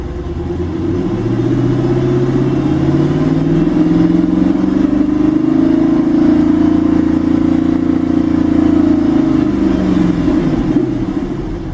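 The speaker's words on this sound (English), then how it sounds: "Now I normally don't rev it up. I'm just doing it to for the sake of drama." A Dodge Challenger SRT8 V8 engine revs up loudly and holds a steady, deep throaty roar, with rising and falling pitch sweeps as the throttle is blipped, close and continuous, with no talking.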